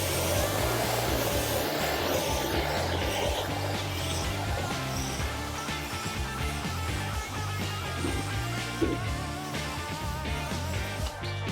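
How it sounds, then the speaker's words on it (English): Pressure washer spraying water across a car panel to spread a quick bead coating during a hand wash, a steady broadband hiss and rushing roar that stays loud and continuous throughout, with no talking. "we're trying to distribute the quick beads using the pressure washer"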